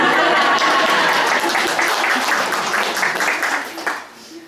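Audience members at a community talk clap together in a loud, dense burst that holds steady for a few seconds and then tapers off into scattered claps.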